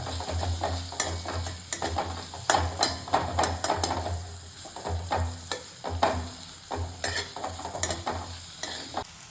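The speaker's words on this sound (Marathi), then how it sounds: "आपण आता याच्यात टाकणार आहे आपला कांदा कांदा पण टाकायचा आहे कांदा पण तुम्हाला चांगल्या प्रकारे परतून घ्यायचा आहे" Chopped onion stir-fried with chili paste in a pan for pulao, a continuous close sizzle broken by frequent scraping and clanking spatula strokes in an uneven rhythm, with no talking.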